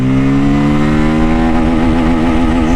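A motorcycle engine, a Yamaha FZ25 or a Pulsar N250 in a comparison, drones loud and close as it accelerates in first gear, its pitch climbing steadily before wavering as it nears top revs.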